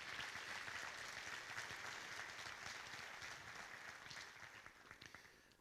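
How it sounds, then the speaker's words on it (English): An audience at a scholarship presentation and celebration of life applauds: sustained, fairly faint clapping from a crowd, gradually thinning to a few scattered claps at the end. "How about a round of applause for everybody that's contributing here today?"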